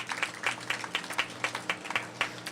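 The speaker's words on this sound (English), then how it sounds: "Please give him another round of applause." Scattered applause from a small crowd at an outdoor mayoral press conference at a Philadelphia playground, rhythmic clapping at a moderate distance, fairly soft and steady throughout.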